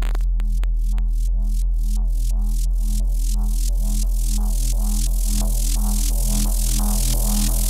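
Synth bass line from the middle section of an electronic track, a steady stream of rapid pulsing notes over a constant deep low drone, loud and dense with no voices.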